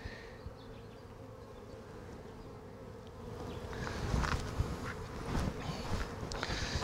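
Honeybees at an open, queenless colony hive hum in a dense, close, steady drone that grows louder midway, with individual bees buzzing past near the ear.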